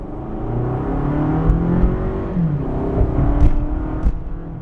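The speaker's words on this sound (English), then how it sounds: "I'm getting some pretty decent acceleration out of this four-cylinder engine." A 2018 Toyota Camry SE with a four-cylinder engine accelerating at full throttle, a loud, steady engine drone rising in pitch with a shift partway through, heard from inside the car.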